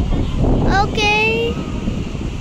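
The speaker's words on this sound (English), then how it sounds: "The wind is very fast." Strong wind gusts across a beach at Puri, making a steady, loud roar against the microphone, with a brief voice-like tone rising over it partway through.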